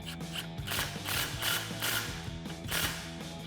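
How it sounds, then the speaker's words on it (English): A ratchet with a 15mm socket tightens a clamp, clicking steadily in short repeated strokes close to the mic, with no talk. "we can go ahead and snug that clamp up with our 15mm socket"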